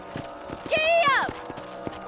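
A horse in Red Dead Redemption sets off with a short neigh over light, regular hoof beats, heard briefly and fairly quietly.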